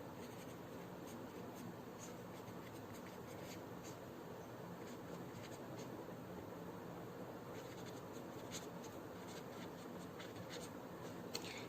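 Pen or chalk writing by hand during a Class 12 electrochemistry lesson, steady scratchy strokes running continuously and fairly faint, close by, with no talk.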